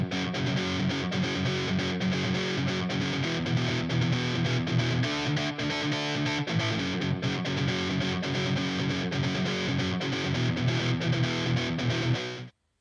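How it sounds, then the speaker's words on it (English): Distorted electric guitar from an SG sample library with gain cranked up, playing continuously loud chords and riffs for about twelve seconds before cutting off abruptly. "let's have a listen to the SG with a bit of gain cranked up"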